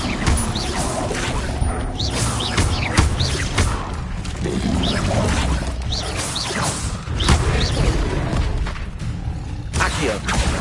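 Levioso levitation spell in Hogwarts Legacy, a busy run of loud magical whooshes, thuds and crashing clatter over about ten seconds, with a voice briefly mixed in.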